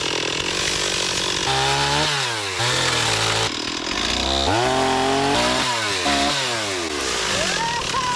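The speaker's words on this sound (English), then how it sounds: "thankfully, Ron carries a chainsaw," Chainsaw cutting up a broken tree branch at a campsite, its engine loud and close, revving up and dropping back in repeated surges as the chain bites through the wood.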